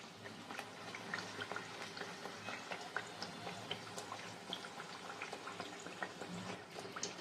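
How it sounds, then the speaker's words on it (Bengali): Dal puri fries in hot oil, a close, continuous bubbling sizzle with small crackling pops, fairly soft and steady throughout. "দেখো বন্ধুরা, পুরিটা কত সুন্দর ভেসে উঠেছে তেলের মধ্যে।"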